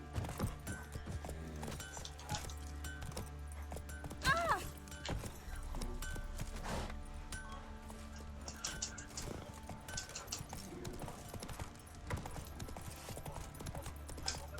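Hooves clip-clopping steadily as Roach, a horse in The Witcher 3, gallops along, with a brief whinny partway through and low game music and ambience underneath.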